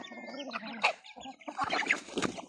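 Native chickens clucking and cooing close by around a nest where a hen has hatched chicks, several short overlapping calls in an uneven rhythm, with brief pauses between bursts.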